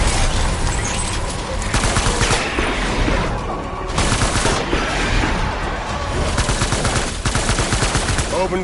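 Dense gunfire in Death Stranding rattles continuously in close, loud automatic bursts, overlapping with explosions and battle noise throughout.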